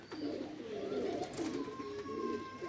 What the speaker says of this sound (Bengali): এই ফাঁকে কবুতরগুলো ছাড়লাম